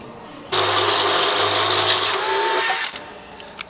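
A power drill bores into thick steel truck frame metal on a 1950 GMC cab-over, a loud steady whine for about two seconds that pitches up and winds down, alone without talking.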